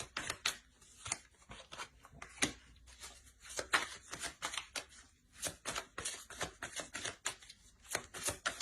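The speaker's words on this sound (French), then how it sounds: "On va rajouter une carte." Tarot cards drawn and handled at a reading table, a run of crisp, close flicks, slaps and shuffling snaps in an irregular rhythm, with no talking.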